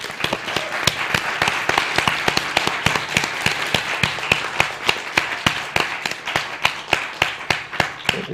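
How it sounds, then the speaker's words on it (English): An audience at a festival keynote claps in a steady, fairly sparse applause, individual claps crisp and distinct, continuing for several seconds. "Please a warm applause for Vladan Joler."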